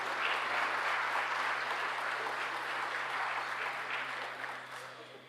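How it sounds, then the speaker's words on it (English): Sustained applause from a large audience at an awards ceremony fills the room, steady clapping that gradually fades toward the end. "Please give them a round of applause as they come forward."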